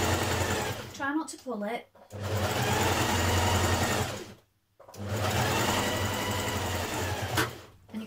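Sewing machine runs in two long bursts of steady stitching along the front edge of a bomber jacket, with a brief pause between them; a voice speaks over the start of the first run.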